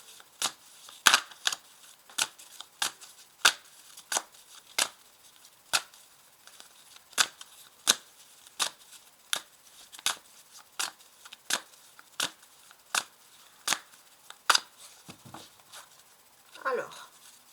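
A mirror oracle card deck is shuffled in a quiet room, sharp riffling snaps repeating at a steady pace of roughly one per second, close and crisp, with a soft voice at the end.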